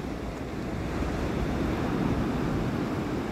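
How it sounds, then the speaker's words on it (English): Ocean waves at the beach, a continuous close roar of surf washing in, with some wind buffeting the microphone and no voices. "listen to the beautiful waves."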